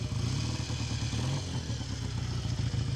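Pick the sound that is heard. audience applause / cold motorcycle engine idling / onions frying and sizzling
cold motorcycle engine idling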